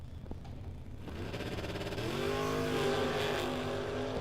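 A Willys and a 1984 Camaro drag race down the strip, engines heard from a distance rising to a steady roar as they accelerate, with a long sustained whine building toward the end.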